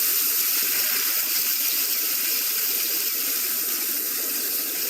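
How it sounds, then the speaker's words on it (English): Water gushes from a tap in the point-and-click adventure game Secret Files: Tunguska, a loud, steady hiss of running water that lasts throughout, with no voices. "Water, flow."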